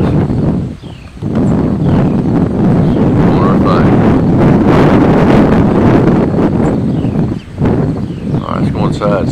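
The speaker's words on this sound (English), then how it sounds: "outside and see what the wind is doing now" Strong wind blowing outdoors at an analog weather station, around 10 mph, a loud continuous roaring rush buffeting the microphone almost throughout, with brief dips in the gusts.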